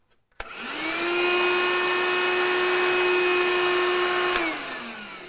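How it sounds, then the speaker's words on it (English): A DeWalt DCV517 cordless wet/dry vacuum with its nozzle attached starts with a sharp click, then runs loud and close as a steady, rising motor whine for about four seconds before winding down. "We'll start off with vacuuming just with this nozzle."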